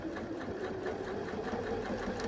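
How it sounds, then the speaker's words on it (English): A sewing machine runs steadily, stitching along the fold of a fabric bag with a continuous rapid mechanical whir and rhythmic needle chatter, close and clear. "you're going to stitch all the way along that fold"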